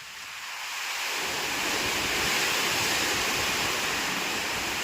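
A morning storm of heavy rain and wind builds from a quieter start into a broad, steady roar of rainfall and gusts that fills the rest of the stretch, with no voices.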